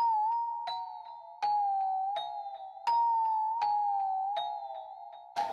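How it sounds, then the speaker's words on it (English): Pitch-bent bell in a Pro Tools beat, struck in a steady repeating pattern of about eight ringing hits, each tone sliding slightly in pitch as it sustains, clear and alone with no voices. "I'm actually using a pitch bend on that bell, so that's why it sounds like that"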